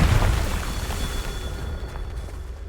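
A Confringo fire-spell blast in Hogwarts Legacy, a deep booming burst at the very start that rolls off into a long rumbling tail and fades slowly.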